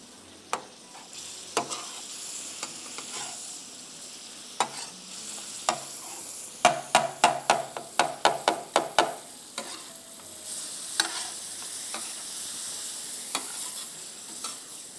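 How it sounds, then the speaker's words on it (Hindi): Spatulas chop and stir-fry brain and kidneys on a tawa for white katakat, with scattered metallic clacks building into a rapid, rhythmic burst of close clanging, then easing back to a soft sizzle. "मगज को अच्छी तरह से कटाकट कर लीजिए। मगज को, गुर्दों को,"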